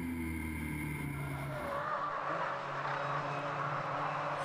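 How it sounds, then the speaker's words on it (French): Onboard a VW Fun Cup race car, the engine drones steadily, its pitch falling as the car brakes hard and another car overtakes on the left. "vous êtes à bord avec Martin Le Burton qui va se faire doubler sur la gauche au premier freinage."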